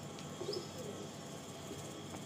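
Soft cooing of Andhra pigeons in a loft with a brief chirp, faint and close, over a quiet hissy indoor background.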